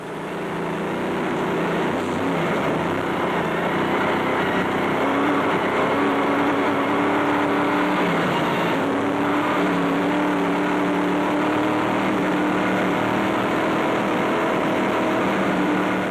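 Off-road rally vehicles, including a Nissan Navara, racing in the 2006 Limpopo 400: a loud, continuous engine roar with a steady droning rumble and no talking.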